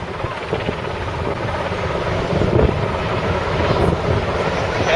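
A rescue helicopter holds an automatic hover above a lifeboat in choppy sea waves, its rotor and engine roar steady and close, mixed with gusting wind noise on the microphone.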